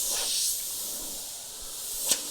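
Suction-feed airbrush fitted with a 0.3 needle spraying, a steady close airy hiss that holds for about two seconds, then a brief sharp puff near the end.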